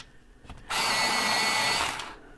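An electric sharpener grinds a light peach colored pencil in one loud, steady whirring burst of a little over a second, starting abruptly and then fading off.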